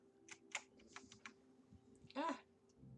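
A computer keyboard being typed on in short bursts of quick clicky keystrokes, close and fairly quiet, with a brief cluster of louder presses near the end and a voice speaking faintly under it.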